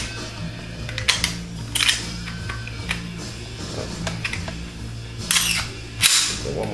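Shots from a .45 ACP handgun, a Taurus 24/7 Pro DS or Glock 21SF, fired at a range: several sharp cracks spaced a second or so apart, a couple louder and closer, with no talk.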